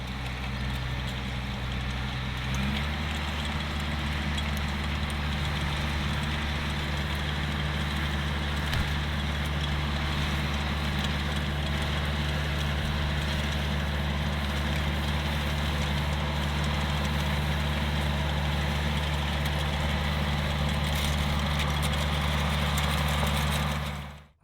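A tractor engine runs steadily with its PTO engaged under load, a deep continuous droning rumble that shifts and settles a few seconds in, then holds even and loud until it cuts off, with no talk.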